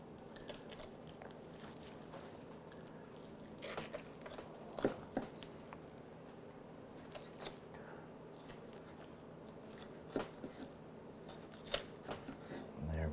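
A knife carving a cooked turkey, faint close crunches and soft cutting snips scattered over a quiet room tone, with occasional quiet speech.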